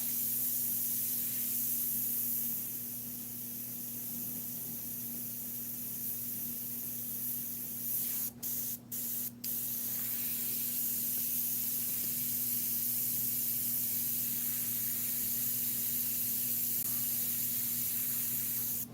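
An airbrush sprays Createx paint onto synthetic paper in one continuous close, steady hiss with a faint hum beneath, briefly broken by three quick clicks partway through.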